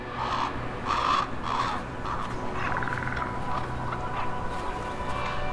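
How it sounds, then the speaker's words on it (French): Common raven calls in the Arctic: a few harsh, throaty croaks in uneven succession, moderately loud over steady wind-like background noise. "Les grands corbeaux ne sont pas des spécialistes de l'Arctique, mais on les trouve aussi au nord du cercle polaire."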